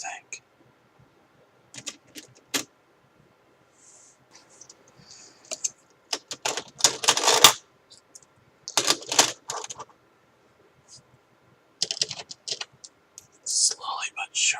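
Coins counted and sorted into piles, heard as soft clinks and clicks arriving in scattered bursts between quiet gaps, close up, with whispering in between.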